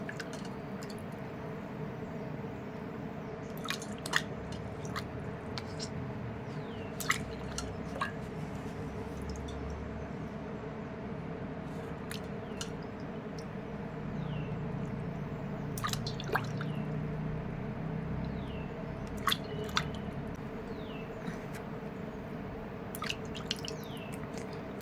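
Water drips and splashes in small scattered bursts as a face pack is rinsed off using water from a bowl, heard over a steady low background hum.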